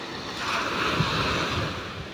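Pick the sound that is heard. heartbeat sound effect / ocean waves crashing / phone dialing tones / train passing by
ocean waves crashing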